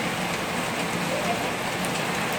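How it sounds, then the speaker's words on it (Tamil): Heavy rain pours down steadily, a dense, even hiss of drops striking surfaces nearby with no pauses. "சூப்பராக இங்கே மழை பெஞ்சிட்ருக்கு"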